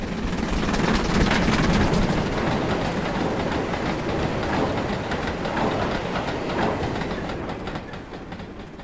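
A model train runs along its track in Train Simulator 2016, a dense, continuous rumble and clatter that stays loud throughout and eases slightly toward the end, with no talking.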